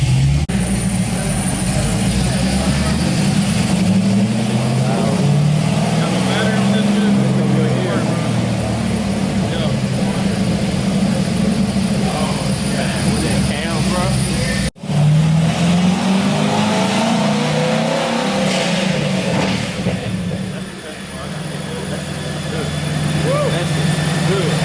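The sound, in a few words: car engine revving on a dyno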